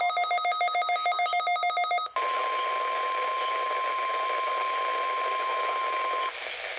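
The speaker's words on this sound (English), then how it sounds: "This is a test of the NOAA radio warning alarm device and the emergency alert system." A NOAA weather radio sounds its warning alarm, a rapidly pulsing electronic tone, then switches to a long, steady, loud alert tone over static hiss.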